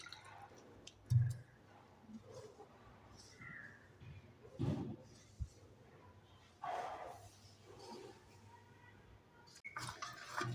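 Hands kneading stiff chapati dough with a little water for Bijapur-style Moharram chonge, giving quiet, irregular squishes and wet slaps separated by short pauses, close and soft.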